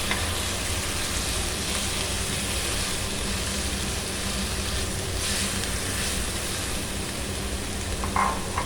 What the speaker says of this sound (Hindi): एक कढ़ाई में ऑयल गर्म करेंगे और इसमें शामिल करेंगे चॉप किए हुए प्याज